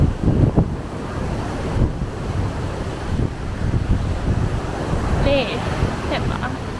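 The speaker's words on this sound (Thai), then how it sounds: "วันนี้คลื่นจะแรงนะ" Strong surf breaks on a beach on Koh Samui, a continuous loud wash of waves with gusty wind buffeting the microphone, and brief voices and a faint whistle-like tone near the end.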